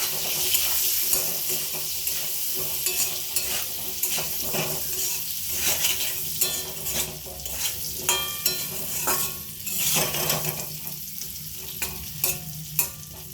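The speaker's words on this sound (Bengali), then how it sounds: "ভালো করে আলুটা ভেজে দিচ্ছি।" Potatoes sizzle steadily in hot oil, with a spatula stirring and scraping the pan at intervals, close and continuous without speech.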